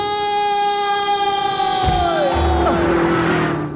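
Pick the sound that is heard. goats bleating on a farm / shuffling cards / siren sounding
siren sounding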